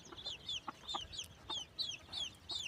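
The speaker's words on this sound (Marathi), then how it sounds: "सगळ्या कोंबड्या आणि पिल्ले व्यवस्थित वेगवेगळ्या इकडे जाऊन चरत आहेत." Hens and chicks cluck and peep on a farm as they forage apart. Soft repeated high chick cheeps come in a steady rhythm over low background noise, with a few hen clucks mixed in at close range.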